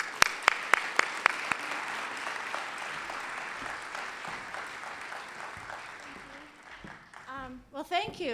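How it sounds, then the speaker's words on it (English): Audience applause greeting a professor as she takes the stage for a talk on CTE, opening with a few sharp claps that swell into a steady, even roar of clapping before fading out under the start of her speech. "So let's give her a great round of applause here,"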